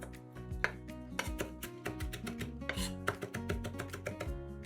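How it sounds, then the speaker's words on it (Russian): A knife chops a small bunch of parsley on a cutting board, with steady, fairly quick close-up strikes over soft background music. "Измельчаем небольшой пучок петрушки."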